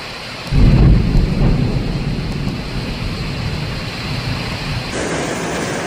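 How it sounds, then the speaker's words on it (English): A deep rumble of thunder breaks out during a southern China hailstorm, then settles into a steady, loud hiss of heavy rain that continues to the end. "Many areas experienced intense thunderstorms"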